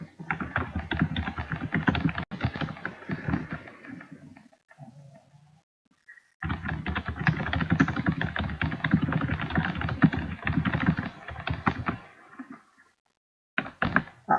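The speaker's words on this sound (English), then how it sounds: "I'm sorry for like the loud thunder typing." Loud computer keyboard typing during a Gems of War stream, dense rapid clacking in long bursts with short pauses between runs, close to the microphone and without talk.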